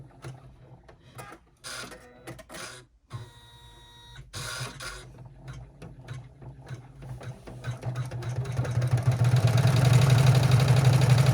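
An embroidery machine stitches a quilted Christmas stocking in the hoop, its needle tapping rapidly and steadily, and the motor hum swells louder toward the end.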